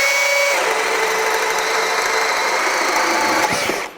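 A Milwaukee M18 compact brushless drill on a 2 amp hour battery bores through wood with a 3/4 inch bore bit, a loud steady whine held for about four seconds before cutting off, with no talk.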